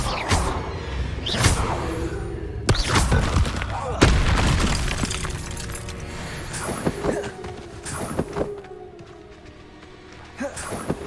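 Spell effects from the Hogwarts Legacy video game ring out as a string of booming blasts, thuds and whooshing casts, several sharp impacts spaced through the stretch over a dense layer of game sound.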